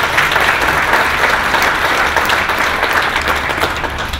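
An audience at a 2012 ICT education summit breaks into sustained applause, a loud, dense and even wash of clapping hands in a hall that holds steady throughout without anyone speaking.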